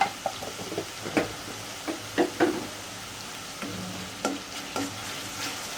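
Ginger garlic paste frying in a pan for chicken biryani, a soft steady sizzle punctuated by several sharp spatula knocks and scrapes against the pan, close and unaccompanied by talk.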